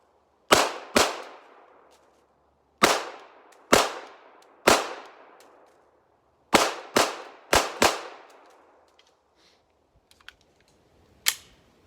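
Canik TP9SFX pistol firing outdoors, sharp loud single shots with ringing decay, spaced irregularly with a few quick pairs and a final isolated shot.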